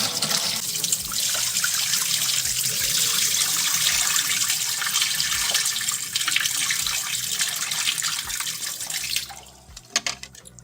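Sea moss being rinsed under a steadily running kitchen tap, a continuous close splashing water rush that holds for about nine seconds before cutting off, leaving a few faint drips and clinks.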